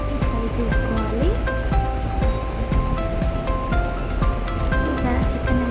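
Chicken frying in a pan until brown gives a loud, continuous hissing sizzle with crackle, while a voice talks over it throughout.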